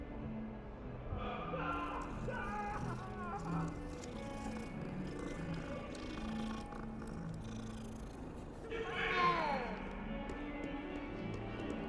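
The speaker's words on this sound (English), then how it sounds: "oh, the cat." A cat in the video game Hogwarts Legacy gives a short, clear meow late in the clip, rising above a steady bed of in-game ambience and soft music.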